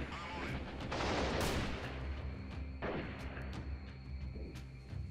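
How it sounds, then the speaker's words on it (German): Gunfire in the shooter game Freeman: Guerrilla Warfare, a dense barrage of overlapping shots and booms with loud bursts early on and again near the three-second mark, fading to scattered cracks under continuous game noise. "dass die Schüsse vorbeigehen."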